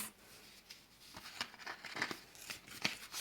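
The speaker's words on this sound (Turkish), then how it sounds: "Şöyle önce kesiyorum kartonumu." Scissors cut through cardboard while making a New Year card, giving a series of crisp snips and crinkly rustles at an uneven pace, close and fairly quiet, with no talking.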